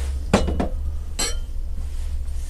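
Pint glasses clink against one another as they are set into a collection in height order, giving a couple of short, bright glassy knocks close by over a steady low hum, with no talking.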